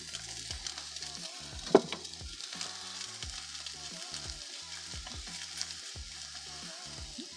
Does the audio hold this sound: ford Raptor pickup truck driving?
no